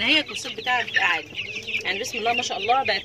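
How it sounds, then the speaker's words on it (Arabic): Roosters and chickens on a poultry farm crowing and clucking in overlapping bursts, loud and close, under someone talking. "وزي ما انتم سامعين الديوك اللي بتدن ديت"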